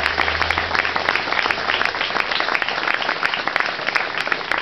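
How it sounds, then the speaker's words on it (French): Steady applause from an audience, dense clapping that holds at an even level throughout, with no voices over it. "je vous demande d'applaudir tout particulièrement et chaleureusement"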